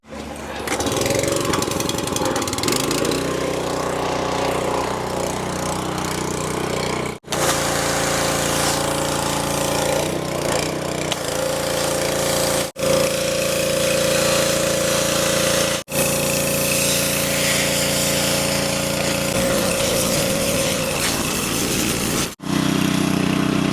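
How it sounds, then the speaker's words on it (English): A pressure washer blasts hardened grease off the wheel hubs of a 1947 Dodge, its motor roaring loud and close in long continuous bursts with brief cut-offs between them and no voices. "finished up pressure washing the hubs"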